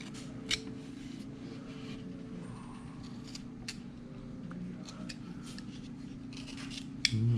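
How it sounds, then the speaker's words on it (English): Knife cutting small chips out of a wood carving, a series of faint close snips and scrapes over a steady low background hum, with a sharper click near the end. "Then I come in about right here. Now this is the undercut here. And then I cut the little chips out that I made."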